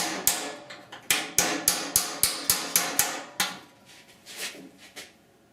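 Hammer strikes drive a chisel into a severely rusted core support on a 1969 Chevrolet C10 truck, about nine sharp metallic blows in a fast steady rhythm, close and loud, followed by a few softer taps.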